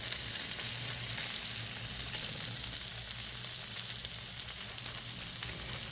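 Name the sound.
ground chuck patties searing in a pan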